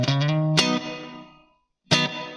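Electric guitar on the neck pickup strikes a chord shaped from open-position shapes, loud and harmonically rich, then rings out in a reverb tail that fades to silence before a second strummed chord starts near the end.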